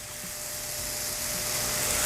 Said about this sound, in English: In with our onions. Ooh, smells good already, man, and it just hit the pan.